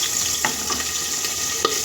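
Raw banana and potato curry frying lightly in a pan, a continuous sizzle broken by a few sharp clicks of stirring, with no talking.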